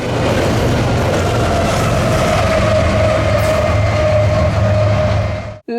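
A train rumbles past steadily and loudly, with a sustained metallic screech over the heavy low roar, cutting off abruptly at the end.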